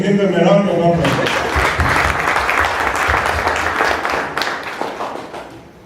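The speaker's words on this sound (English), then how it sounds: "Can we give them a round of applause?" After a voice in the opening second, a crowd breaks into strong applause for the under-20 national soccer team that won the Africa Cup of Nations, dense clapping that gradually fades over the last seconds.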